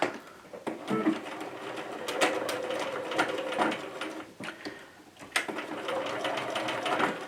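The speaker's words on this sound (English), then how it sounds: "I am sewing through a lot of layers here." A sewing machine stitches a zipper pouch through many layers of fabric, running as a steady close mechanical whir with brief changes in speed.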